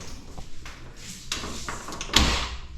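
An aluminum-and-glass door at a worksite being opened or closed, a sharp thud near 2.2 seconds following softer shuffling and handling noises, fairly close.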